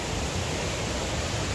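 Kuang Si waterfall in Luang Prabang, Laos, a steady, dense wash of falling water, constant and fairly loud with no change or pause, and no voices over it.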